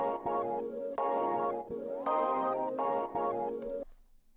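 Beat-making melody loop processed with reverse, stutter and phaser effects, a bright synthetic phrase repeating in short swelling chunks with choppy cuts, playing alone before cutting off near the end.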